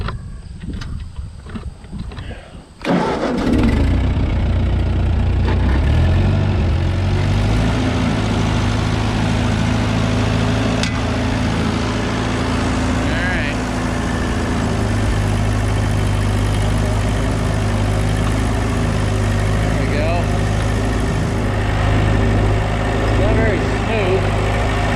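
A raking machine's engine running steadily after a short quiet start, a loud continuous low drone with a constant idle-like hum for the rest of the stretch, with a voice talking over it.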